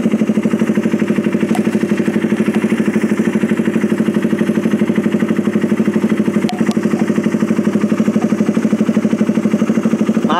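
A motorcycle engine with a PE28 carburetor idles steadily up close, a continuous even chugging pulse with faint rattles, no voices.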